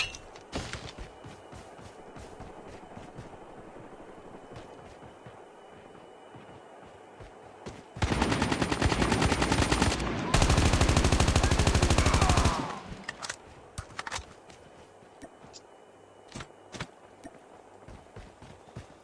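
Gunfire in a Call of Duty battle royale match: scattered shots and footsteps, then a loud sustained burst of rapid automatic fire lasting several seconds before settling back to sporadic game sounds, with no talk.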